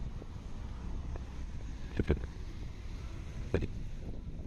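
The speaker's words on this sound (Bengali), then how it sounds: "দারুণ বাতাস" Strong wind blows outdoors near a bus during travel in Thailand, a constant low rumbling buffet on the microphone with a couple of brief knocks midway.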